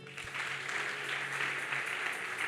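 A church congregation claps steadily in sustained, even applause at a prophetic worship service, a dense wash of hands with a faint tone beneath.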